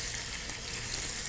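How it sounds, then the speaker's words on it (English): Meat searing in olive oil in a hot pan, giving a steady, loud, close broadband sizzle with no talking. "Hear that nice little sizzle there?"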